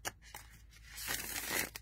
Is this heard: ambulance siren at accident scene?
no